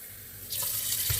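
A glass of water poured into a juice blender jar while making almond milk, a short splashing gush that starts halfway through and runs to the end, close and fairly loud.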